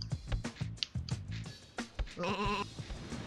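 Sheep bleating in the Sheep Raider video game, a wavering bleat rising near the end over choppy game sounds and effects, fairly close and clear.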